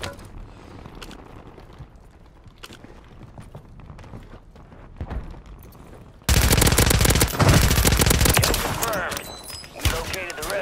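Dense automatic gunfire bursts loud and close in a Call of Duty MWIII Warzone match, cutting in abruptly after quieter movement sounds and talk.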